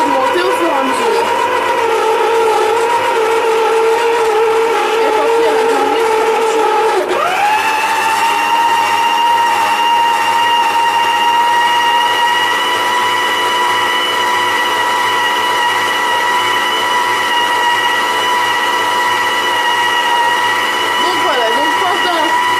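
An electric mixer whisking meringue: a loud, continuous motor whine at low speed that jumps sharply to a higher, stronger pitch after about seven seconds and holds steady, close and dominant, with faint sounds around it.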